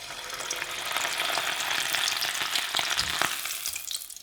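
Beef sizzling and frying in hot oil, a steady dense crackle with a few louder pops and spits close by, no talking.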